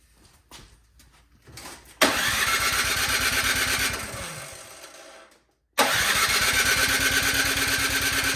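A Craftsman snowblower engine cranks with a few weak sputters, then roars to life at about two seconds, runs loud and steady, briefly dies into silence, and restarts at full volume.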